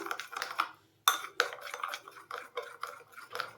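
A spoon beats orange food colour into boondi batter in a bowl with quick, repeated scraping strokes in a steady rhythm, close and fairly soft, with one brief pause near the start.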